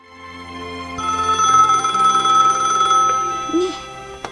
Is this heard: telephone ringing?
yes